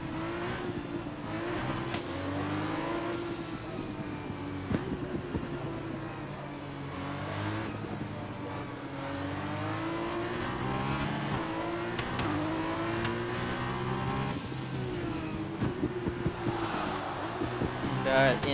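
Formula 2 race car in a racing video game at the Netherlands round, engine revving and shifting up continuously and loud for the whole stretch, with a commentator speaking over it.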